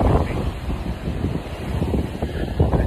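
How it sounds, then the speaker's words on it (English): Strong wind buffets the microphone in heavy, uneven gusts, a loud rushing roar with no voices. "It is so windy."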